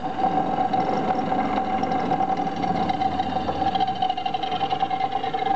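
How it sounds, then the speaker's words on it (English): A lapidary grinder on variable speed control spins its grinding wheel, giving a steady close mechanical whir with a constant hum tone throughout. "that powers up the grinder and turns the grinding wheel"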